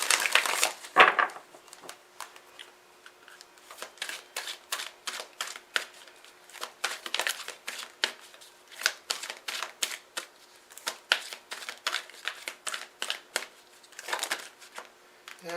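Oracle cards shuffled by hand in a steady run of crisp riffling slaps and flutters, close and fairly loud, with no talking over them.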